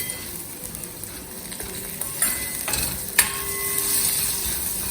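Sugar being stirred into a pan of gourd and chana dal raita mixture, a soft continuous scraping and sizzling texture with a few sharper utensil clicks near the end.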